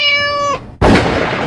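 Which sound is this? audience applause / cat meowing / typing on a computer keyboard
cat meowing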